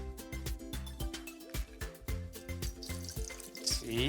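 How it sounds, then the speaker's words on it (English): Tap water runs into a sink to rinse a tarnished copper penny, a steady close splashing with small drips and bubbling throughout. "and then rinse it with water."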